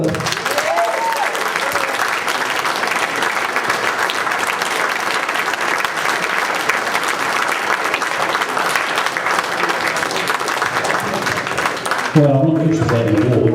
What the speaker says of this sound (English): Please give a big round of applause to Frank Reimer.